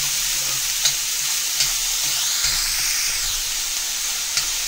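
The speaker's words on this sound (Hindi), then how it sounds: "इसको अच्छे से फुल गैस पे भूनते हैं जब तक गोल्डन ना हो जाए।" Stuffed bitter gourd (bharwan karela) roasting over a full gas flame, with a continuous close sizzle and a few evenly spaced light knocks as the pieces are moved.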